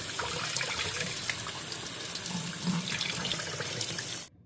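Running tap water splashes steadily over pressed barley, rice and quinoa being rinsed in a sink, a continuous close gushing wash that cuts off abruptly at the end.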